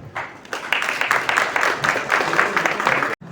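Applause from an audience at a lecture event, moderate and steady clapping lasting about three seconds before stopping abruptly.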